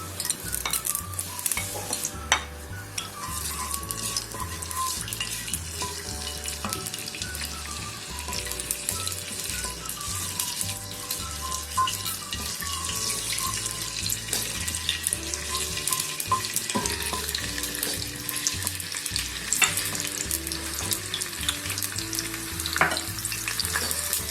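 Ginger garlic paste frying in half a cup of oil for a tadka, a dense continuous sizzle close up, accompanied by clinks and stirring noises and a running-water sound throughout.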